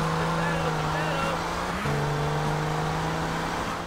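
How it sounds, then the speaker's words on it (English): Car engine in Grand Theft Auto Vice City holding a steady, loud drone with a brief dip and shift in pitch midway as it revs, with a voice speaking over it. "The engine on this game is just flawless. The engine sound."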